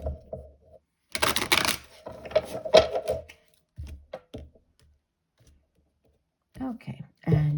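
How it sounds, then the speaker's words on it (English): Tarot cards being shuffled by hand, a burst of quick riffling and papery clatter followed by scattered taps and card handling, with short stretches of speech in between. "We'll do one last shuffle."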